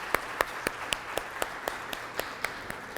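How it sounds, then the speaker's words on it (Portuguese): Sparse, scattered hand claps at a business luncheon, a few people clapping for a guest. Each clap is distinct and fairly quiet, with a steady uneven rhythm of roughly four per second and no talking. "Uma salva de palmas para o nosso convidado."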